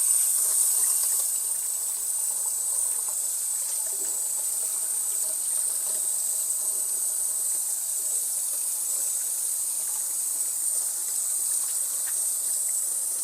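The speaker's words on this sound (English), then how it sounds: "Let me wash my hands, guys." Water from a running tap splashes steadily over hands being washed during a pumpkin-carving session indoors, a continuous hissing gush heard alone at moderate loudness.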